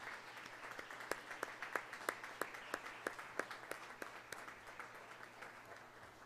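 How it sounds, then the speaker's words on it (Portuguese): Sparse, rhythmic clapping at an honorary citizenship ceremony, with sharp distinct claps in a steady beat that sound like a small group or a few people, fairly quiet and alone. "merece uma salva de palmas calorosa"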